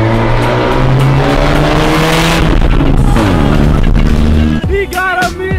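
A Mazda Miata drift car's engine roars very loud and close as it passes under a bridge, with the sound shifting and booming as it echoes, then tire squeal near the end.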